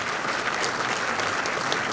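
Audience applause for Claudio Fantini at a seminar in Ushuaia, a dense, steady wash of many hands clapping at once, close and loud with no voices over it.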